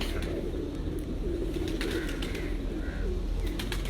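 Pigeons at a pigeon keeper's house in Bhuchal Kalan coo softly, with a few chirps over a constant low background rumble.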